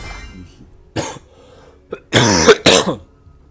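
A person coughs several times: one short cough, a brief pause, then two loud, harsh coughs close together, heard up close.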